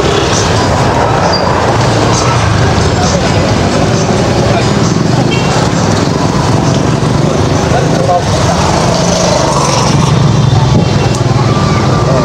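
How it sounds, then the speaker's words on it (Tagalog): Steady, loud street traffic in Tondo, Manila on a rainy day: a continuous rumble of engines and vehicles passing close, with people talking throughout. "Traffic na."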